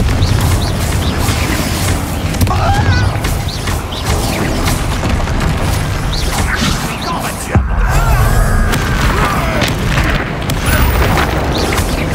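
Repeated booming Confringo spell explosions in Hogwarts Legacy, loud blasts layered over dense continuous battle noise with a voice shouting between impacts.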